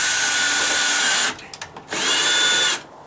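A power drill drives a 1-inch screw into a wooden deck to start a pilot hole, whining loudly for over a second, then giving a few short stuttering bursts and another steady run before stopping.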